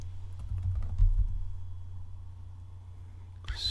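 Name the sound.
typing a command on a computer keyboard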